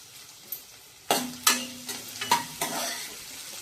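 Dried red chillies and curry leaves hit hot oil with sautéed onion, giving a steady crackling sizzle broken by sharp stirring scrapes and clinks of a spoon against the pan.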